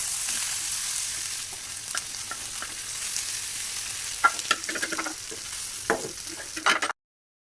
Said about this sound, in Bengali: এরকম একটা স্যাটিসফাইং সাউন্ড যদি শোনা যায়, আর তাও বাসায় তৈরি বিফ সিজলিংয়ে